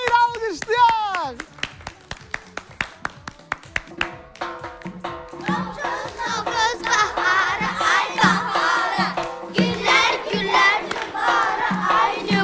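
An audience claps in a rhythmic beat that grows into dense applause mixed with crowd shouts and cheering, with voices calling out at the start.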